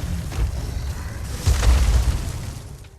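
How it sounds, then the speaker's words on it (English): A rocket launcher blast in Resident Evil 4 lands as a deep rumbling boom midway through, with a lower thud earlier, all rolling off into a fading low rumble. "I pulled out the rocket launcher and in one shot"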